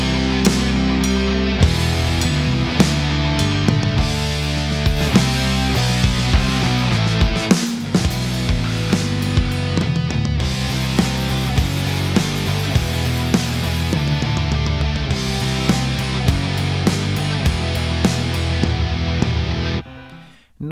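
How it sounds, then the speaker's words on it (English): Dense, loud music with heavy compressor pumping, the overall level breathing in time with the beat, continuous for about twenty seconds before cutting off. "The compressor works very audibly now and generates a distinctive pumping."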